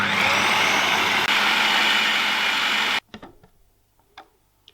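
A kitchen blender blitzes crepe batter of milk, butter, sugar, vanilla and flour in a loud, steady whir for about three seconds, then cuts off abruptly, leaving faint clinks and small handling noises.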